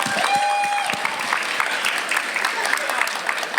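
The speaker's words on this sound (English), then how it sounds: "Let's give a round of applause" A live audience at an interview event with Power Rangers actress Karen Ashley applauds, producing a steady burst of clapping with a few voices and a brief tonal note near the start.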